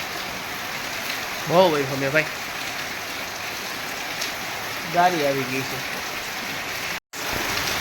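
Heavy rain pounds steadily on a tin roof, a constant hiss, while voices speak briefly twice over it.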